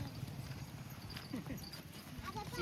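Horse hooves clip-clop at a steady walking pace as a horse cart passes on an outing alongside camel rides, the hoofbeats faint and distant under nearby chatter.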